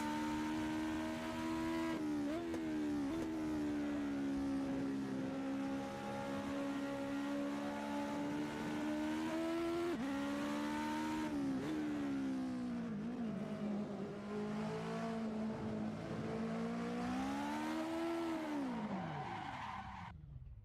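A race car in Assetto Corsa roars through a long sustained run, the engine note climbing and dipping with gear changes and throttle, tires squealing as the rear slides, loud and continuous before easing off at the end.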